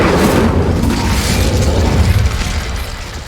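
Loud, rumbling Confringo spell explosions from the video game Hogwarts Legacy burst one into another in a sustained, booming blast that slowly fades.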